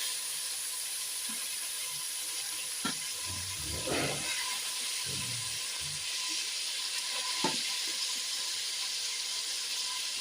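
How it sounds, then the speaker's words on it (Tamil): Tomatoes, chopped vegetables and green peas sautéing in a pan for vegetable biryani, giving a soft continuous hiss and sizzle with a few quiet stirring knocks, fairly faint. "தக்காளி ஒரு அரை வேக்காடு நல்லா வதங்குது."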